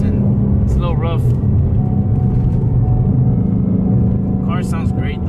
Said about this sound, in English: Car sounds great though, bro.